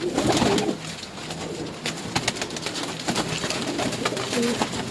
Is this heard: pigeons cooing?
yes